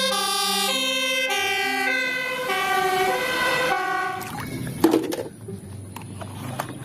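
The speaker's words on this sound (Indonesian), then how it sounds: "Wow, pemadam kebakaran." A toy fire truck wails with an electronic siren, its stepped tones rising and falling steadily for about four seconds. The siren then cuts off, leaving clattering handling noises close by.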